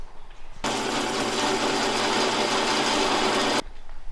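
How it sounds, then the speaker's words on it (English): A power drill bores a hole in a steady, loud whine lasting about three seconds, starting and stopping abruptly, during work on a rat rod tow truck build. "Then we drill it."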